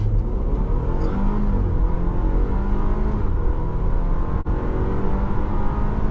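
A 2023 Audi Q5 Sportback pulls hard from a standstill at full throttle, its engine a steady, loud low rumble heard from inside the cabin, rising smoothly with a brief dip mid-run, no talking.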